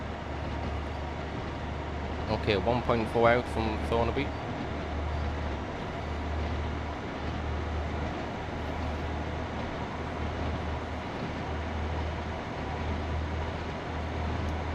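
A simulated train in Train Sim World 2 on a Northern Rail route rolls along with a low, steady rumble and rhythmic pulsing, while someone speaks briefly over it.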